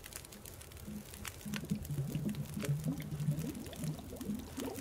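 Water boils in a pot in The Long Dark with a steady, low bubbling and popping that builds and keeps rolling, close and fairly quiet, with no voices over it.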